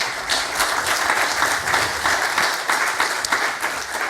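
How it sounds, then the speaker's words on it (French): Lecture audience at a talk on GNSS gives a loud, continuous round of applause, many hands clapping densely and evenly for the full few seconds. "on peut l'applaudir également"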